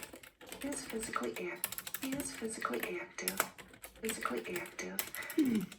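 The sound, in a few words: typing on a computer keyboard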